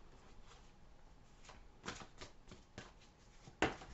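Tarot cards being shuffled and handled, with several soft riffling bursts and a sharper card snap near the end over a quiet room background.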